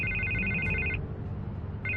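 An electronic telephone trills in a loud repeating ring that stops for about a second and then starts again, set over low background rumble.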